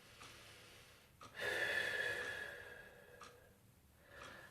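A person draws a deep breath in through the nose during a stretch for disc and sciatica recovery, a long airy inhale of a few seconds, close and quiet, with fainter breaths before and after.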